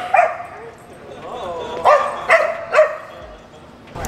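Puppies at a restaurant's outdoor dining area give a yip at the start and then three short barks, fairly close, over steady background chatter and talk.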